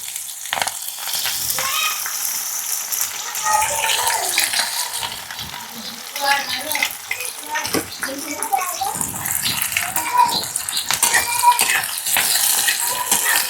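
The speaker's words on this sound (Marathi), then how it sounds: "तर आता टाकायचा कांदा." Onion going into hot oil with garlic cloves that are already turning reddish, giving a steady broadband sizzle and crackle through the whole stretch, with someone talking over it.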